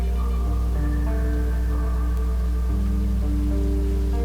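Steady rain falls in the video game ArmA 2 mod Namalsk Crisis, a soft continuous patter beneath layered sustained tones, fairly loud and with no voices.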